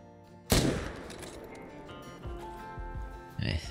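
A single loud hunting rifle shot in Call of the Wild cracks out and rings away, followed near the end by another sharp report over quiet outdoor ambience.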